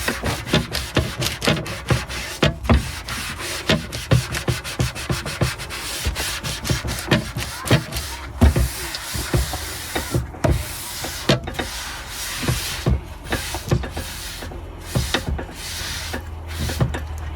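A sponge is pressed and rubbed repeatedly against a cooking surface during cleanup at a camping basecamp, giving close, loud, rhythmic scrubbing strokes with short gaps between them and no voices.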